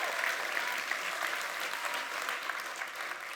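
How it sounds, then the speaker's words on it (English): An audience at the UCL Festival of Engineering applauds the Dean of UCL Engineering with steady, dense clapping that holds at an even level for several seconds, with no speech over it. "Please give him a big round of applause."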